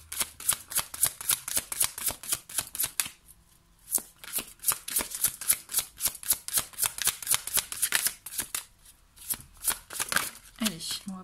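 Oracle cards are shuffled by hand in quick, rapid riffling bursts, close and crisp, with a brief pause before the shuffling resumes; a person speaks over part of it.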